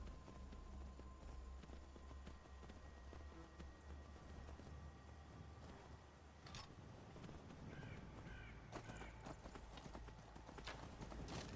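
Horse hooves clip-clop steadily at a gallop while riding through the Skyrim game world, with a crow cawing now and then over a constant low ambient bed.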